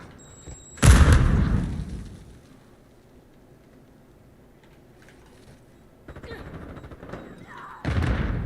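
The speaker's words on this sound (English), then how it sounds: "Stun grenade out." A stun grenade goes off in Call of Duty MWII, one loud sharp blast with a ringing decay, followed by quieter gunfire and another burst near the end.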